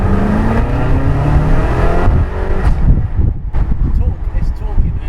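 A Ferrari California's engine revs and pulls hard under acceleration, loud and close from inside the cabin, the note rising then dropping away as people talk over it.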